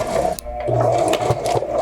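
A sewing machine stitches fabric for an adjustable mask, running in steady close bursts with a rapid mechanical whirr, a brief pause in the middle, and small clicks and rattles between runs.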